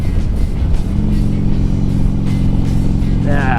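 A motorcycle engine labours steadily up a big hill on a winter ride in South Dakota, a continuous close rumble with rising throttle and wind buffeting the mic.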